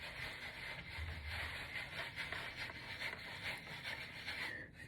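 Hair sponge rubbed and rotated over short hair to form freeform twists, a continuous close, soft scratchy brushing with a faint repeating rhythm, steady for several seconds with no talk.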